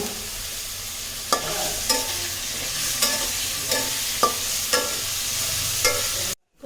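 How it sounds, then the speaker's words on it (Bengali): Chicken pieces fry in hot oil in a pan with a steady sizzle, while a spatula stirs and knocks against the pan about every half second until the sound cuts off. "চিকেনটা আমার প্রায় ভাজা শেষ"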